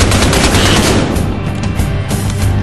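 Rapid gunfire in the Battlefield Hardline video game, loud dense bursts of shots fired in quick succession, thinning slightly midway before resuming.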